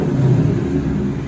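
Steady low rumble of a running 5.0 V8 engine in a 2018 or 2019 Mustang GT, idling loud and close with a constant, even drone and no talk over it.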